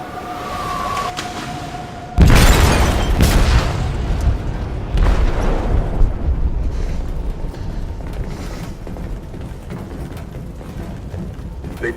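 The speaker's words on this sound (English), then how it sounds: "They detonated an explosive in the hold." Explosion in a ship's hold in the video game Detroit: Become Human, a sudden loud booming blast followed by a long rumbling roar with a second surge, filling the scene after a quiet tone.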